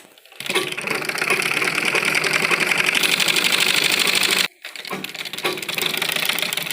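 A sewing machine stitching men's kurta fabric runs in a loud, fast, even whir, stops abruptly for a moment, then starts up again.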